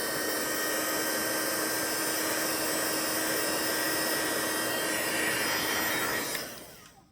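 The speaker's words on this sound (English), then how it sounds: "So now I'm going to get my dryer out." A hair dryer blows steadily on a watercolor painting, a loud, continuous close-up whir for about six seconds before it switches off and winds down.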